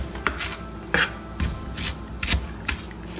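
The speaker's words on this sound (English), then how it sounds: "You're gonna chop some cilantro, babe." Knife chopping fresh cilantro on a cutting board, a string of sharp, close chops in an uneven rhythm with short pauses, loud and clear with no talk over it.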